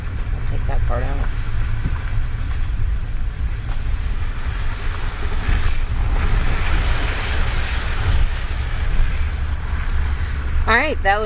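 A vehicle crosses a creek on the way up a mountain to an off-grid homestead, with a steady rush of splashing water and engine rumble lasting throughout, plus wind buffeting the microphone.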